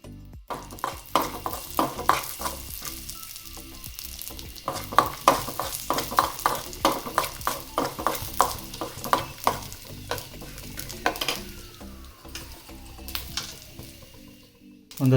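Urad dal and chana dal fry in a spoon of oil while a spoon stirs and scrapes the pan, soft sizzling under repeated close scraping strokes, with no talking.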